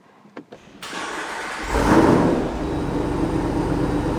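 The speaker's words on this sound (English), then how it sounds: "when you start the car" A couple of soft clicks, then the engine of a Jeep or Ram TRX with a 392 engine cranks and catches, swelling into a steady idle that settles and hums on close by.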